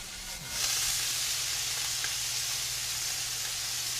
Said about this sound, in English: Now you're adding in the chilies and the smoked paprika. And again, stir fry the whole time.